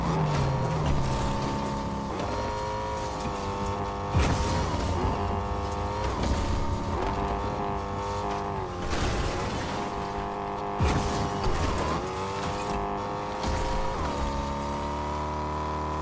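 Car engine in a video game, a steady droning motor with layered tonal harmonics that shifts pitch as the vehicle accelerates and changes gear, with a few brief louder bursts along the way.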